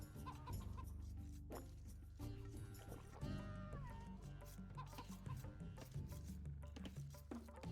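Chickens cluck repeatedly in a medieval real-time strategy game, their short clucks and squawks mixed with game music and sound effects at a moderate level.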